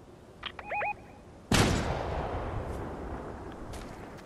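Several sharp gunshots in a video game ring out, a loud crack followed by a long fading echo, with a couple of brief electronic tones just before and scattered distant shots trailing off afterward.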